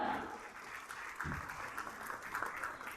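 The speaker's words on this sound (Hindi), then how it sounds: "जोरदार तालियां" Audience at a government renewable energy policy launch ceremony in Bihar applauds, a faint, distant, continuous wash of clapping with one soft low thump partway through.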